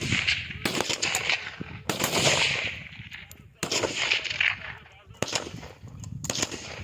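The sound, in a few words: gunfire during operation against bandits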